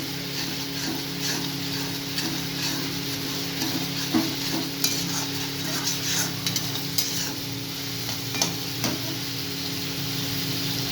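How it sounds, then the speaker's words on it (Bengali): Rui fish curry masala frying in oil as it is stirred in a pan, a continuous hiss with repeated spatula scrapes and taps at an uneven, steady pace, close and moderately loud. "এইভাবে এটাকে নাড়িয়ে যেতে হবে চার পাঁচ ধরে"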